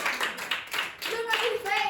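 A single person in a classroom claps for himself, giving a short burst of hand claps mixed with classroom voices and talk.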